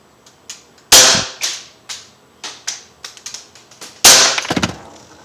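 An Umarex Beretta APX .177 air pistol fires two sharp, loud cracks about three seconds apart, each followed by quick rattling impacts, with lighter mechanical clicks scattered between shots, close and without talk.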